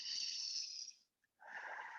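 Deep, steady breaths during a yoga pose, with a long airy exhale, a short silent pause, then another long inhale, close and fairly soft.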